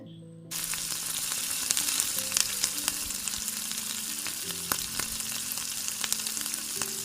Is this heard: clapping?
no